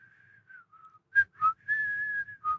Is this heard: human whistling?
yes